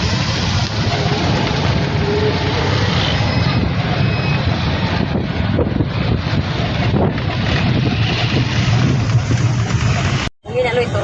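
Heavy wind buffets the microphone outdoors in Gingoog, a loud, continuous roar with rumbling gusts, briefly cutting out near the end; a voice speaks faintly beneath it.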